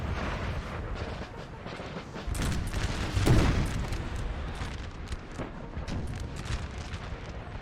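8-pounder cannon artillery fire in a Napoleonic Total War 3 battle, distant booms rolling over a continuous din of musketry and battlefield noise, with one heavier thump standing out midway.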